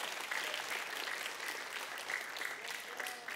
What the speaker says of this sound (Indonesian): tepuk tangan dulu untuk Tuhan Yesus